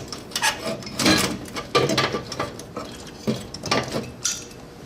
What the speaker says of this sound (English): you would simply take the screws out, disconnect your gas line,